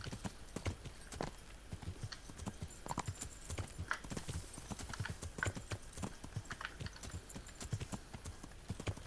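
Horse hooves galloping in the medieval game Kingdom Come: Deliverance, a rapid, irregular clip-clop of beats, fairly quiet and steady across the whole stretch.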